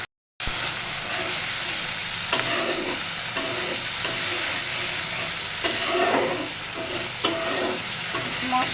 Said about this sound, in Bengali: ভালো মতো কষতে থাকবে।